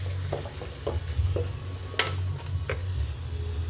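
Squash sautéing in a pan with crab and onion, a steady sizzle with several sharp stirring scrapes and clinks of a utensil against the pan, close up with no talking.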